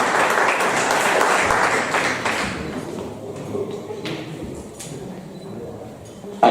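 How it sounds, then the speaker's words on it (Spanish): A live audience bursts into strong applause for the collaborators on stage. The clapping is loud at first, then thins into scattered claps with a few knocks and thuds, and ends in a sharp bang. "un fuerte aplauso para nuestros colaboradores"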